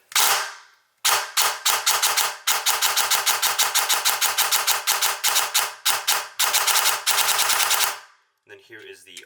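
A SIG MCX airsoft rifle with upgraded gears, a Ufinity CNC motor and a Titan gate fires, starting with a few single shots and then long rapid full-auto bursts, loud and close, ending in a brief mechanical whir.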